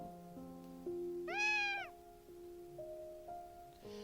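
A single clear meow from a blue-eyed male kitten in the Piofiore: Fated Memories game, rising and falling over gentle background music, close and distinct.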